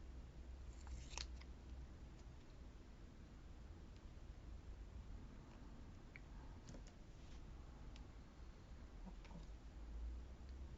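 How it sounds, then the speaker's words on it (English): Scissors snip through planner stickers in a few quiet, scattered cuts, faint crisp clicks over a soft hiss of room noise with no talk. "I have to do a little bit more cutting over here."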